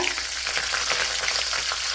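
Green chillies fry in hot oil in a pan where mustard seeds have just popped, giving a steady, loud crackling sizzle with no talking.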